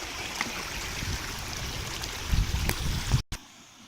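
Water flows in the Huai Nam Champi stream near Pak Chong with a continuous close rush and gurgle. It cuts abruptly near the end, then resumes more softly.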